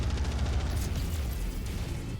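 A missile explodes during mech combat in MechWarrior 5: Mercenaries, a dense, continuous low rumbling blast that stays loud throughout with heavy bass and crackling debris.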